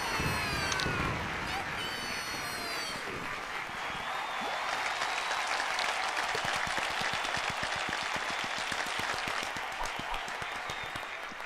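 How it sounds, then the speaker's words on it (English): Applause and cheering from a virtual crowd in Second Life at a race podium fill the scene steadily, with a rapid patter of claps through the second half and someone talking over it. "An applause for the podium of race 1."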